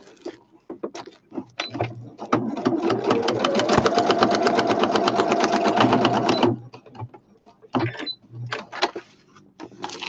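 A sewing machine stitches paper ephemera pieces for a woodland-themed journal, a steady rapid mechanical run of about four seconds, preceded and followed by short bursts of stitching and handling clicks, close and loud.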